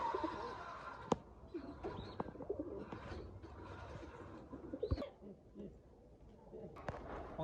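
Pigeons coo softly in low, throaty bursts, with faint chirps and a few sharp clicks and knocks around them, while people talk quietly nearby.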